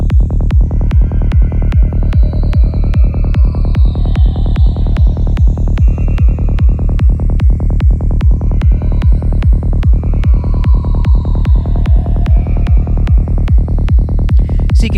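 A spooky horror atmosphere synth pad built in Vital, a dark droning hum with a steady rapid throbbing pulse and drifting eerie tones above, loud and continuous, no voices.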